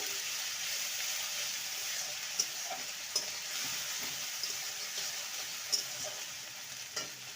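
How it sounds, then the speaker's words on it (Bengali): Onion with ginger-garlic paste frying in a pan, a soft continuous sizzle broken by several sharp spoon scrapes and taps as it is stirred, close and without speech. "এবার দিয়ে দেবো আদা রসুনের পেস্ট একসঙ্গে বেটে রাখা ভালো করে কষিয়ে নেব"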